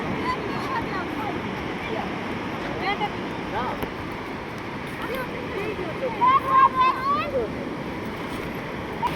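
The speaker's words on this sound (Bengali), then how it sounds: "আমরা এখন আছি দীঘা সমুদ্র সৈকতে বা দীঘা সি বিচে।" Surf at Digha sea beach makes a steady, broad wash of waves close by, with voices talking over it and a short whistle-like tone partway through.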